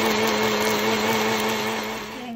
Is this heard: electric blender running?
yes